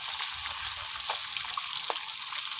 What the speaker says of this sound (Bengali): আমি হালকা করে ভেজে নিচ্ছি বন্ধুরা।